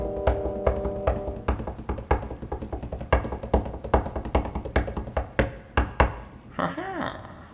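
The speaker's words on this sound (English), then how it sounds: "there was a strange knock on my door" Someone knocks on a door in a run of sharp, hollow raps, at least a dozen of them spread unevenly across several seconds. The knocks are close and loud, and a short whooshing effect follows at the end.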